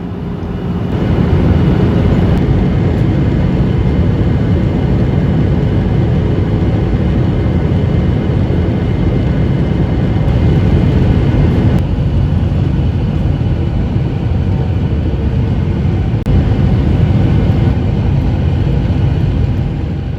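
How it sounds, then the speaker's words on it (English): Airliner landing in San Diego, a loud continuous roar of engines and cabin rumble heard from inside, steady throughout with no talk. "Another perfect landing."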